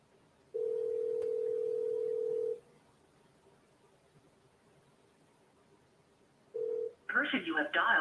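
A steady telephone dial tone hums for about two seconds, drops to a faint hum, returns briefly, then gives way to rapid dialing and ringing-style tones at the end, with no talk.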